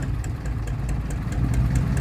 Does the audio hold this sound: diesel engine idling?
yes